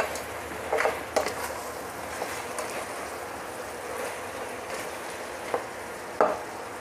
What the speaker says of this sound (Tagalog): Haluin natin saglit.